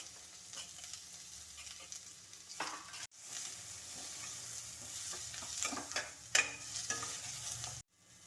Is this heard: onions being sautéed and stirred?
yes